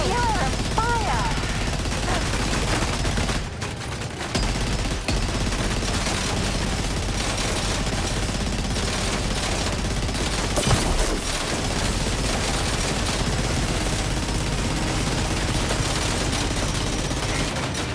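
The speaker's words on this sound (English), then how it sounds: "Keep firing! Only a few left." Sustained bursts of rapid gunfire and heavy combat noise in Death Stranding 2: On the Beach, loud and continuous over a dense battle soundscape, with a sharp blast near the middle.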